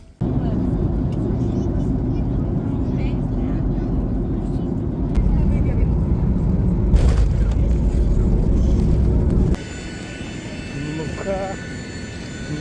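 An airplane landing in Norway gives a loud, steady engine roar that swells midway and then drops sharply to a lower rumble, with people talking over it.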